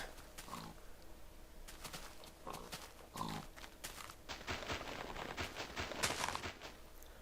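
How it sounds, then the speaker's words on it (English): Minecraft pigs oink and grunt in short scattered calls amid game ambience, with thumping footsteps and other game noises, moderately close and fairly quiet. "Well, I found where all the pigs were."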